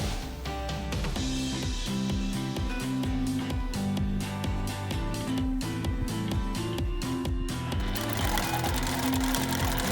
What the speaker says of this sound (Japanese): 折り目のところまで縫って返し縫いをしてから1回糸を切るで。